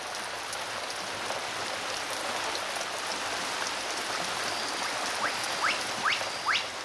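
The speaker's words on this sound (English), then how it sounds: "The downpours of rain are absorbed by the vegetation and soil like a giant sponge" Steady, dense rain falls in Madagascan rainforest, a continuous hiss with scattered drips and a few louder close drops near the end.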